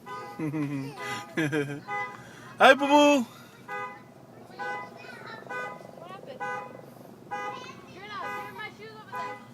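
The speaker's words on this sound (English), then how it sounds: "And the car alarm's going off." A car alarm or horn tooting in short bursts near a house, with one louder blaring tone in the middle, mixed in with people talking nearby.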